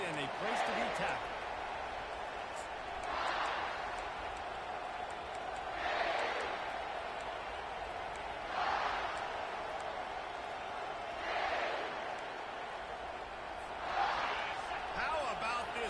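Loud, dense crowd roar fills a football stadium during a kickoff return in a Heisman-contest game, swelling in repeated surges every few seconds with clapping mixed in, and a commentator talks over it throughout.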